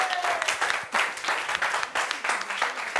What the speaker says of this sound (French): Applaudissements, applaudissements pour Joy.